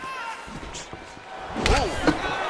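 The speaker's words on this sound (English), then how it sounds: "Big punch lands over the top." A heavy punch lands over the top in the UFC 4 fighting video game, a sharp thudding impact midway through, followed by a second smaller hit, with crowd and commentary ambience underneath.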